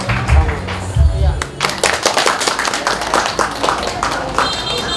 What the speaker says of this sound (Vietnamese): Vỗ chào vỗ tay nhé